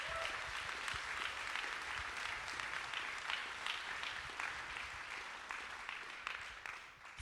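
Sustained applause from a conference audience, steady dense clapping throughout, with a faint voice briefly audible near the start before the clapping tapers slightly at the end.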